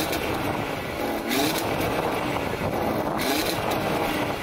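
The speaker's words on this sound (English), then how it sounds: "Can you rev up the Mark II," An Audi RS3 Mark II engine revs in a steady, sustained drone with two slight swells, loud and close, under wind noise on the microphone.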